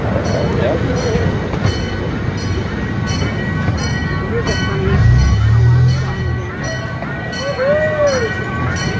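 A small zoo train rolls along its rails at the Santa Barbara Zoo, a steady rumble with rhythmic clatter and squeals, swelling louder midway, while birds chirp and a voice talks over it.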